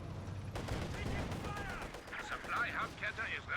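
Gunfire rattles in a strategy video game as Sturm Pioneers storm through guards: a dense spread of rapid shots and bursts over a busy battle bed.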